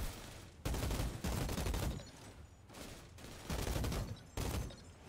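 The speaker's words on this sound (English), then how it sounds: "Keep thinking I've got them dead, and then I stop shooting at them." Bursts of rapid gunfire from a shooter in Outriders, played on PC, come in several loud volleys separated by brief pauses, with no voices.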